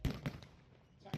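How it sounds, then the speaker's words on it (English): A Lewis gun fires at a tank battle reenactment, heard as a few sharp, distant cracks spaced apart, with a quiet gap between the early shots and a final report. "There goes the Lewis gun on his number 2."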